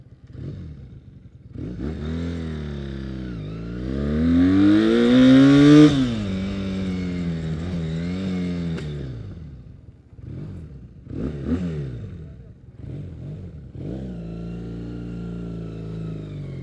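A carbureted CB 400 Scrambler motorcycle engine runs up close, revving up and easing back down several times between rough, burbling idle stretches, with no voices.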